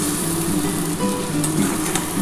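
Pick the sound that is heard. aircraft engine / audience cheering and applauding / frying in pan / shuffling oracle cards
frying in pan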